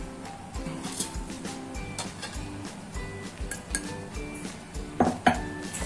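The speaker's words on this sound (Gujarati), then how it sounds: "આપણે ખાંડવાના છે તે હું ખાયણીમાં ખાંડું છું" Spices for a green chilli pickle are pounded coarsely in a mortar, giving a steady run of dull knocks and clinks at close range with no talk.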